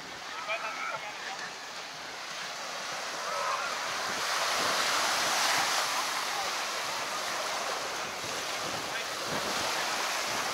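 Sea waves wash onto the sand at Chinamans Beach in Mosman, Sydney, a steady broad surf roar building in the middle, with wind buffeting the microphone throughout.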